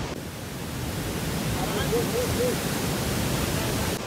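Chitrakoot waterfall roars as a loud, continuous broadband rush of falling water, steady throughout and filling the whole clip, with a brief faint tonal chirp in the middle.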